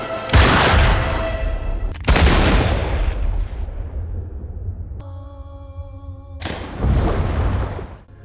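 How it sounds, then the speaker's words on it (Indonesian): Heavy gunshots ring out in a Moon Knight episode: three booming blasts with long decaying tails, separated by a sustained tonal hum. "Arthur memberikan pilihan kepada Mark, tapi Mark memilih bertarung yang membuat Arthur menembak Mark."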